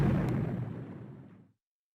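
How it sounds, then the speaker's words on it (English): An explosion in the Naruto Storm video game, a loud, rumbling blast with a heavy low end that decays steadily and cuts off abruptly into silence. "Was that an explosion?"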